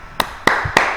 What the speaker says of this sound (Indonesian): Kasih tepuk tangan buat Bunaya Arsad